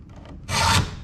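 File rasping against a ripping chain for a Granberg chainsaw mill, a single short, close scraping stroke after a quiet moment.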